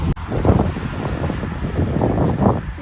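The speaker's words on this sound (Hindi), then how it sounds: "यहाँ पर ठंडी हवा चल रही है" Cold wind blows outdoors near a townhouse in Canada, a steady broadband rush with gusting microphone buffeting and faint rustling throughout.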